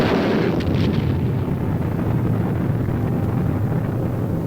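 An early German rocket launch from archival film roars as a dense, continuous rumbling blast, loud and close, with a wind-like rushing texture and no voices.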